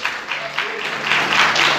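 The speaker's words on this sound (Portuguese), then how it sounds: "Você pode aplaudir Jesus?" Church congregation applauding together during a sermon, a steady broad wash of clapping that swells slightly toward the end, close and fairly loud, with no voices over it.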